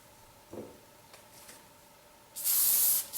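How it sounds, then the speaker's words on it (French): Hair spray hisses from a can onto hair while a braided chignon is styled, a faint short puff early on followed by a loud, close burst of spray near the end, with no voices. "Je redonne un coup de spray."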